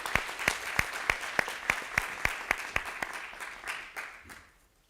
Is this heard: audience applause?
yes